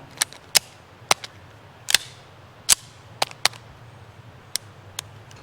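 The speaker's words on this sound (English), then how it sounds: "We'll let Fox have first shots." Shots from a Springfield Prodigy 1911 pistol on a range, about a dozen sharp cracks at irregular intervals, some in quick pairs, loud and close with no talking.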